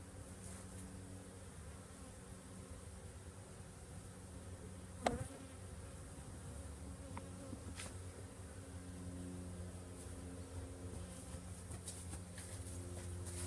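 Bees droning steadily around an opened hive, a continuous buzzing swarm sound close by with a brief sharp knock partway through.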